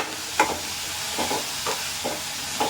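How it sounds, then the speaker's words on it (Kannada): Food fries in a pan with salt, giving a steady close sizzle broken by several soft scraping stirs, with no talking. "ನನಗೆ ಇವಾಗ ಟೈಮ್ ಇಲ್ಲ ಸೊ ಅದಕ್ಕೆ ನಾನು ಸಾಲ್ಟ್ ಹಾಕಿ ಬೇಗ ಫ್ರೈ ಮಾಡ್ಕೊತಿದ್ದೀನಿ"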